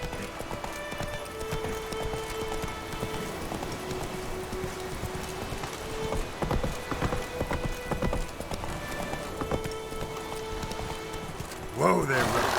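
Roach the horse from The Witcher 3 trotting, with steady rhythmic clip-clop of hooves close by over a rain-like ambient wash, and a louder rustle near the end.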